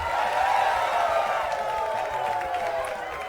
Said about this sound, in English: Let's have a delicious helping of applause for...